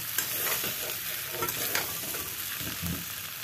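Fried paneer pieces drop into a hot pan and get stirred, a close sizzle mixed with spatula scrapes and soft clatter, no talk.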